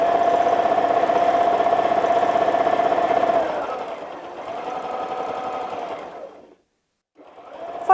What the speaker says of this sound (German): Wir fahren auf unserer Eiseite entlang ein Stück nach oben oder nach unten und wir quilten unsere Zacken erneut